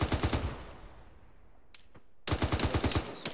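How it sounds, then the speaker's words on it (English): Rapid automatic gunfire in ArmA 3, a loud, tightly spaced burst, then a pause with a couple of isolated distant shots, then another sustained burst of rapid fire. "Got weapons fired."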